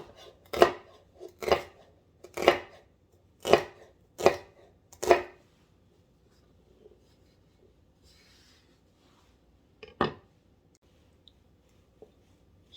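A sharp knife coarse-chops on a cutting board, six firm, evenly spaced thuds followed by a pause and then one more chop, close and crisp in a quiet room.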